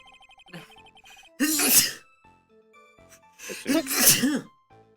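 Two loud sneezes burst out close by a few seconds apart, each with a sharp intake before it. Soft electronic beeps sound in between, likely from a video game.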